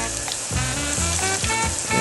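Plantains sizzle and crackle steadily in oil in a small frying pan, the frying noise loud and continuous with a few sharper pops throughout.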